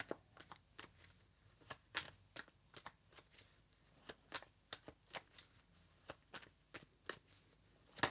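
Tarot cards being shuffled in a rapid series of crisp riffling snaps and flicks, close up, with irregular bursts and short pauses between them.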